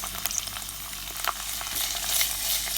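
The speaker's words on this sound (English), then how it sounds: "Let's give this a mix and let's fry it until golden brown." Garlic, ginger, green chilies, onions, curry leaves and garcinia frying in hot oil for a fish curry, a close, continuous crackling sizzle with stirring clinks, growing slightly louder toward the end.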